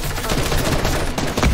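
Sniper shots ring out in a video game, a short burst of rapid, fairly close gunfire cracks over a busy game soundscape.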